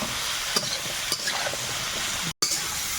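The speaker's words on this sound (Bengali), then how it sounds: "এর মধ্যে আলু বেগুন আর ফুল ঠিকঠাকের ডাঁটা সব দিয়ে দিলাম লবণ দিয়ে দেবো হলুদ গুঁড়ো এবারে ভালো করে ভেজে নেব" Potato, eggplant and vegetable stems fry with salt and turmeric in a hot pan, a steady close sizzle broken by a few stirring scrapes.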